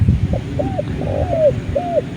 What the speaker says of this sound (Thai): กับมีนกอยู่นี่แหละ